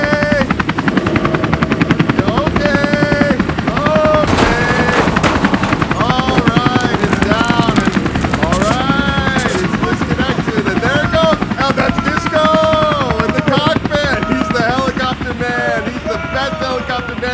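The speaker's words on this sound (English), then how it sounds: "We can talk better after the helicopter sets it down and flies away." A helicopter setting down a truck and flying away, its loud rotor thump and turbine whine dominating throughout, with brief voices audible underneath.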